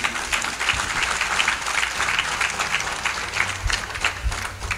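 Clapping from a family gathering at a thanksgiving celebration, dense and continuous throughout, with some low background rumble.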